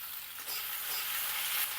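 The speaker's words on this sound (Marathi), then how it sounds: "आता कढईमध्ये घालूया टोमॅटो" Tomato dropped into a hot kadhai of frying onion, garlic and chillies, giving a loud, continuous close-up sizzle with a faint stir of the spoon toward the end.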